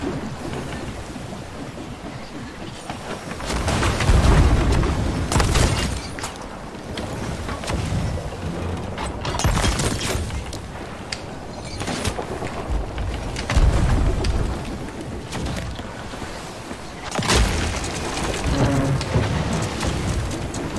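Cannon fire in a Sea of Thieves naval battle: heavy, rumbling booms land at scattered moments over a constant wash of rain- and storm-like sea noise, with no voices.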